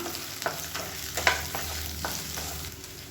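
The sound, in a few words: sautéing onions with tamarind in a pan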